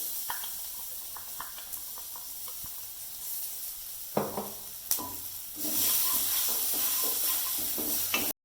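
Ground masala paste for dal rasam fries and is stirred in an oiled pan, with soft scraping and crackling that swell into a louder, steady sizzle toward the end.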